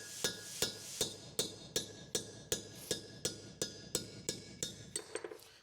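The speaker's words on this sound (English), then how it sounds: "It never looks good hitting something with a hammer on camera." Metal hammer blows driving valve guides out of a Ferrari 308 engine head, about fifteen sharp, evenly spaced strikes with bright metallic ring, close and alone.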